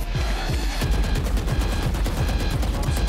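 Rapid automatic gunfire in Valorant, a fast burst of repeated shots fired close up that continues almost without a pause.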